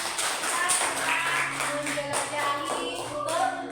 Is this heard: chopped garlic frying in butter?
no